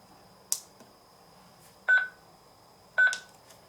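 Three short electronic beeps from an Anran indoor pan/tilt WiFi security camera, spaced about a second apart, sound faint and close against a quiet background hum.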